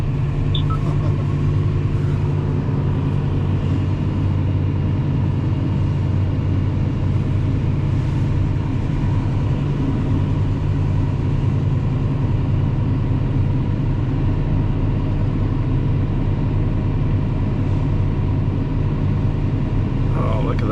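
A Fendt IDEAL 9T combine harvester's engine runs steadily throughout, a constant loud low drone and rumble with no breaks, heard from close by with faint voices beneath.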